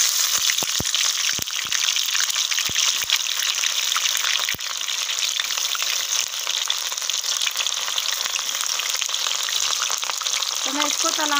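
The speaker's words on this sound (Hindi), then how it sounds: "अब देखो मैं तेल में डालती हूँ तलाने के लिए ये कटहल।" Jackfruit pieces dropped into hot oil to fry for a sabzi, a loud, constant sizzle and crackle with a few sharp pops and clicks near the start.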